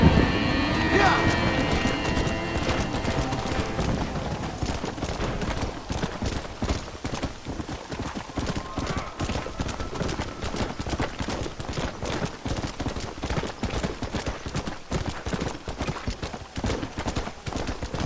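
Galloping horse in the Red Dead Redemption video game, a fast, steady clip-clop of hooves running for the whole stretch, with a voice and a brief neigh near the start.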